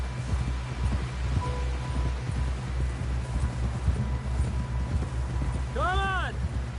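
Horse hooves in Red Dead Redemption II, a soft rhythmic clip-clop under a low rumbling background, with a short melodic chime rising near the end.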